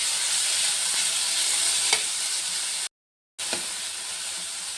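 Grated carrot frying in ghee gives a loud, steady sizzle and hiss close by, cutting out briefly for a moment before the continuous sizzling resumes.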